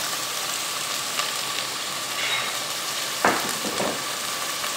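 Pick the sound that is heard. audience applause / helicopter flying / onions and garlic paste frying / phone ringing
onions and garlic paste frying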